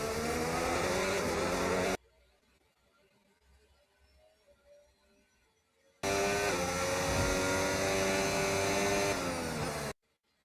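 A faulty car engine in the racing game F1 25 gives a loud, high, steady whine for two stretches, separated by a few seconds of near silence and cut off abruptly each time.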